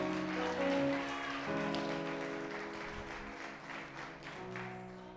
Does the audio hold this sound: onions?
no